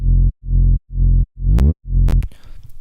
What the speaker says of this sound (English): I have a Decapitator on here, which is a distortion plugin, which gives it harmonics.